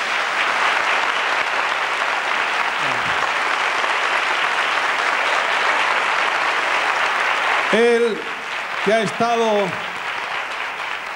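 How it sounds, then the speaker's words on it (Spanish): Applause from a live audience for a guitarist at a Spanish copla show, steady and dense throughout, with a voice briefly speaking over it near the end. "Un aplauso para él."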